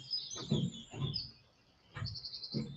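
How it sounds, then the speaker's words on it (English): Birds chirping and singing close by, with bright high-pitched calls coming in bursts and a short pause in the middle; no one speaks. "I hear all of the wonderful birds where you're at singing"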